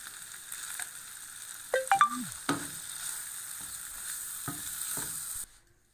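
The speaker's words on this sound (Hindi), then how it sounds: "बस इसको भूनेंगे, अच्छे से इसकी भुनाई कर लेंगे।" Chicken gizzard and liver curry frying in a pan, seasoned with black pepper. A steady close sizzle with a few scraping stirs that cuts off abruptly at the end.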